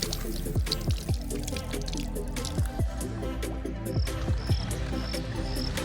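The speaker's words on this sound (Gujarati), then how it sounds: "ડંકીને પાણી આવી ગયું બરોબર" Water splashes and drips steadily from a hand pump on a farm, with irregular drops and small gushes close by and a faint high chirping in the background.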